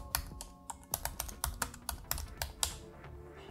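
Quick keystrokes on a computer keyboard as a command is typed in, a run of crisp, close clicks at an uneven pace, quiet and alone.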